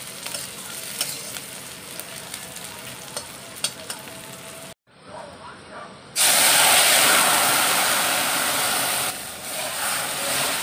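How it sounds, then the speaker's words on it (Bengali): Onions and dried chillies hit hot oil for a dal tempering with a crackling sizzle and stirring taps. After a brief cut, a sudden loud, sustained hiss of steam rises and slowly fades, close by with no talking. "মা পেঁয়াজ আর শুকনো লঙ্কা দিয়ে এখন ডাল ফোড়ন হবে।"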